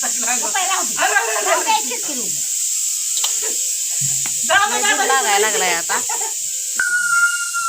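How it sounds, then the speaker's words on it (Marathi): A large pressure cooker vents through its whistle with a long, loud, constant hiss of steam, filling a home kitchen while people talk over it. "मोठ्या कुकरच्या लगेच शिट्या होत्या"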